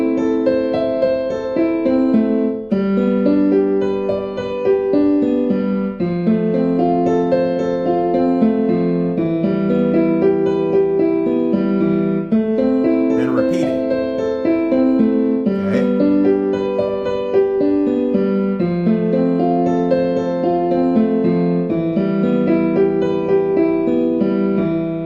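Piano plays a repeating flowing pattern that steps downward in pitch several times, notes sustained and blending together over a steady half minute.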